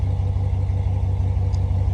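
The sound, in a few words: Dodge Ram 1500 Hemi engine stock exhaust sound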